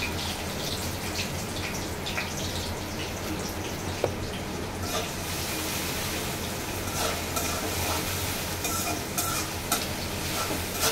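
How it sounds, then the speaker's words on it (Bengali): Chopped onion hitting hot oil in a pan for a dried-fish curry, a loud, close sizzle and crackle that rises after a few seconds and continues steadily with occasional scraping stirs. "এখন আমি এই যে পেঁয়াজ কুচি দিয়ে দিব। তেল গরম হয়ে গেছে।"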